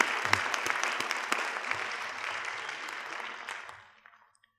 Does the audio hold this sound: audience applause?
yes